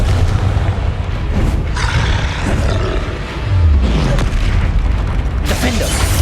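Confringo, the fiery explosive spell in Hogwarts Legacy, bursts with loud booming blasts over a continuous dense roar of game combat noise.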